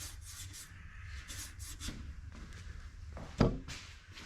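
A flat sanding board rubs back and forth across a sheet metal hood molding, making close, rhythmic rasping strokes with one sharp knock partway through.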